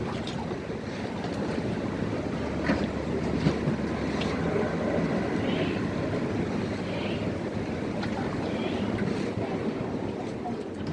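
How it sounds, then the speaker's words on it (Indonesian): A speedboat sits at the dock on Boracay Island, with waves lapping and wind rushing over the microphone. The mix is a steady, moderately quiet wash that carries no clear engine note. "AA sudah berada di kapal speedboat dan ini sebentar lagi akan diberangkatkan dari dermaga di Boracay Island menuju ke Malai."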